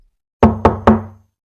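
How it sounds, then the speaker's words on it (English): Three sharp knocks on a hollow surface, evenly spaced, close and loud, each ringing briefly before fading into silence. "Knocking."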